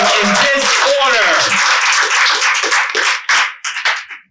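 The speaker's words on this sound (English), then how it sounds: "Put a round of applause for your 2023 Connecticut Slam team" An audience at a youth poetry slam breaks into loud, close applause with some cheering, dying down into scattered claps and then stopping.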